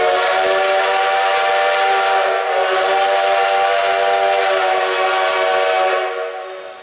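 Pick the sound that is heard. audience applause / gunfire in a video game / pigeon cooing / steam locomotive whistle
steam locomotive whistle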